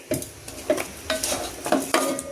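Pork browning in oil in a pan, stirred with a spoon, giving about five rhythmic scrapes and clanks over a soft, continuous sizzle at close range.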